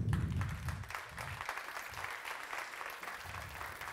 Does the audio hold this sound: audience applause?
yes